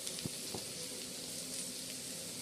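Onion frying in a pan, a soft continuous sizzle with faint crackles and a couple of small knocks, heard alone at low volume.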